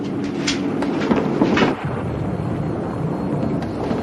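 Steady broadband rain hiss fills the clip, with a brief louder rumble in the middle before the downpour continues evenly.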